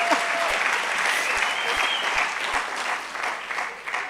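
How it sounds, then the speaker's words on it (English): An audience at a school-related talk gives sustained, vigorous applause, many hands clapping in a dense, even roar that eases slightly near the end, with some faint speech underneath. "Chairman needs a hard clap"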